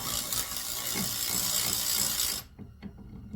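An older Mac Tools BRS 038 ratchet clicks in a rapid, close-up run of pawl ticks for a couple of seconds, then stops abruptly, leaving a few isolated faint clicks.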